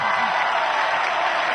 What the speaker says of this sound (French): Tu es un Laurent Gbagbo, il faut t'applaudir.